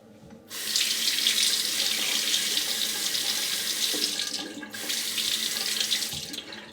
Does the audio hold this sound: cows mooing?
no